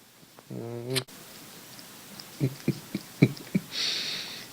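A pet cat gives a short drawn-out meow, followed by a series of soft, irregular little snorts or chirps close by, then a brief hiss of noise, with no talking.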